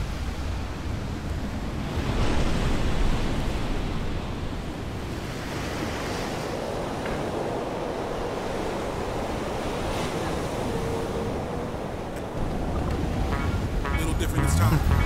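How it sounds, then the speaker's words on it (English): Surf breaking steadily on a Brazilian beach with gusty wind buffeting the microphone, a continuous loud wash of waves that swells around the start and end. "The waves are firing, just hoping for the wind to pick up."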